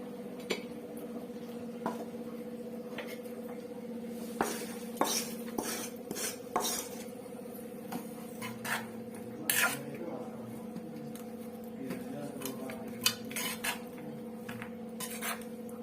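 A spoon folds lemon rice tempering through cooked rice, giving scattered clinks and scrapes against a steel vessel over a low steady hum, the sharp taps irregular and fairly close.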